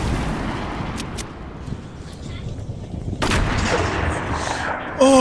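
Gunshots in a video game: a couple of sharp cracks, then a heavier blast over steady rumbling background noise, with a faint voice now and then.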